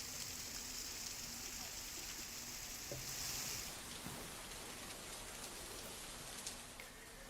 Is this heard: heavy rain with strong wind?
yes